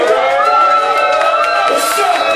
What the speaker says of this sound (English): give a round of applause for my A1M niggas, man